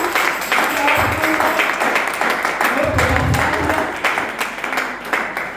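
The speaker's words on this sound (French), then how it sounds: "Acclame, acclame." A church congregation at a French-language service claps and cheers in steady, dense applause that fills the whole stretch, with no gaps or clear individual claps.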